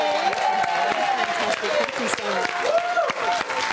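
Studio audience applauding a magician on a live TV show, a dense continuous patter of clapping with voices talking over it throughout.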